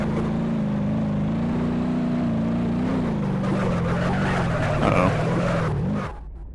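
A truck engine drones and strains in BeamNG.drive as the truck drifts, its pitch dipping and rising with tire and body noise before cutting off abruptly near the end.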